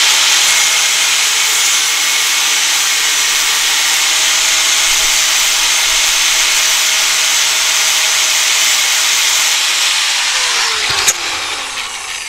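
A 4.5-inch angle grinder with a cutoff wheel slices through steel wire winch cable, a loud, steady high whine held without a break for about eleven seconds before a brief clunk and a slight drop as the cut finishes.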